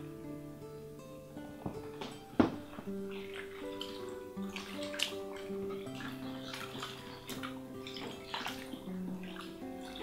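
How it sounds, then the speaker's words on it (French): A gelatinous food rinsed under a running tap gives a steady close stream of splashing water with small clinks and drips throughout. "il faut mieux faire en sorte que tout est bien rincé"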